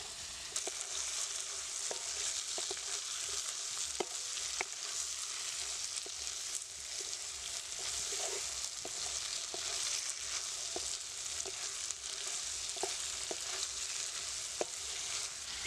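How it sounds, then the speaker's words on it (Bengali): Ground spice paste with ginger, green chili and garlic fries in a pan for a Bengali fish curry, giving a quiet, continuous hiss with scattered soft stirring taps throughout. "কাঁচা লঙ্কা ও রসুন সবগুলো মশলা দিয়ে আবার একটু ভালো করে কষাতে হবে"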